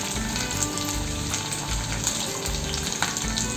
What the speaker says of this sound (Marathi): हिंग आता चांगलं हे परतवून